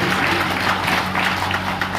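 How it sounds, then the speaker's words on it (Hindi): An audience at a seminar in Gurgaon claps for a new member, a steady, dense wash of applause from a roomful of people throughout. "एक बार ताली बजाइए हमारे नए साथी के लिए"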